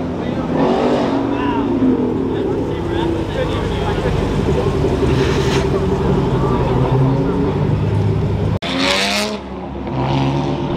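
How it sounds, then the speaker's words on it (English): A car doing two-step launch control at an outdoor car meet, engine revving hard and held steady with rapid popping, loud and close, under someone talking, ending in a sharp burst of crackles. "Oh, and some two-step action going on."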